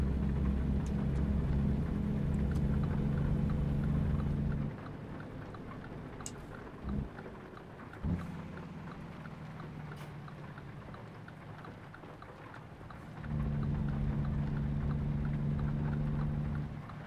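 Rain in the American Truck Simulator video game, a soft steady patter under a truck's low engine drone, which drops away midway and later returns.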